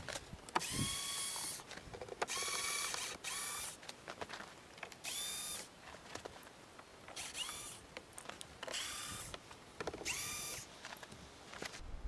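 A power drill drives plastic door panel screws on a 2012 Ram, several short whirring bursts separated by pauses, close and fairly quiet with faint handling clatter between runs.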